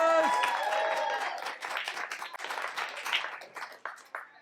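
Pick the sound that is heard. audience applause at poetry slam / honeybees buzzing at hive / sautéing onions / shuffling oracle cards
audience applause at poetry slam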